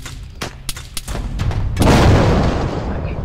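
Several sharp gunshot cracks are followed by a big, rumbling explosion that swells and slowly decays, from a military battle in the video game ArmA 3.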